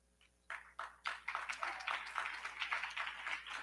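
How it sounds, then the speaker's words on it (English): An audience at a business awards ceremony breaks into steady applause, the clapping starting abruptly and holding as a dense, moderately distant patter. "they're clapping for your dress"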